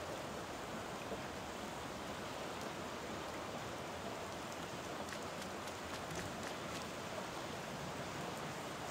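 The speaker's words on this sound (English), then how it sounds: "It's raining cats and dogs." Heavy rain pours steadily in the video game Back To The Dawn, a dense, even hiss of falling water with scattered drop patters, continuous and fairly quiet with no voices.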